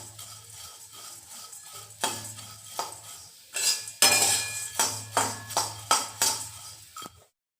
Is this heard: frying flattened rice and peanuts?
yes